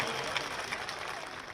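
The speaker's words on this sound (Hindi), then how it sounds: "जोरदार ताली बजाओ" A crowd claps at Chief Minister Mohan Yadav's political rally, a brief burst of dense, steady applause.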